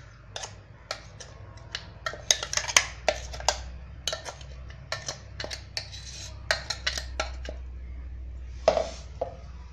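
A spoon scrapes and taps against a grinder jar and plate while serving peanut and amla chutney, producing a quick irregular run of sharp, close metallic clinks and knocks with no talking.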